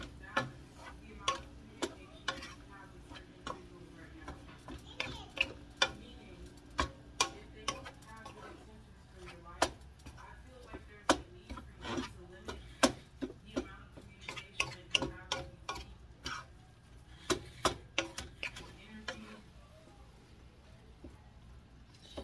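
Chicken taco filling being stirred in a pan: repeated sharp clicks and taps of a utensil against the pan, arriving in a steady, irregular rhythm over a low background hum.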